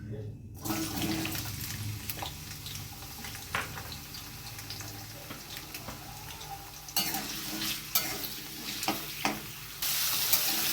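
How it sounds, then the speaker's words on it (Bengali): Thin-cut potato strips dropped into hot oil with nigella seeds, a soft steady sizzle with occasional stirring clatter, fairly quiet and close, no speech. "এই আলুটা আমি দিয়ে দিচ্ছি তেলের মধ্যে"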